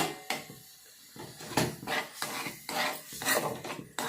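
A spoon mixes black cumin seed hair dye paste with a little water in a small bowl, making rhythmic scraping and rubbing strokes that come in short close bursts with brief pauses.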